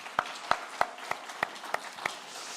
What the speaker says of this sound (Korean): 우리 이렇게 잘하신 분들을 위해서 박수 한번 합시다.